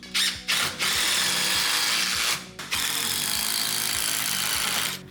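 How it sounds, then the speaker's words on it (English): A power drill drives screws through wooden pieces into cinder blocks for a large aquarium stand, a loud sustained whirring with ratcheting clicks, two brief pauses and restarts, and close by. "now we're gonna start drilling the middle pieces into the cinder blocks"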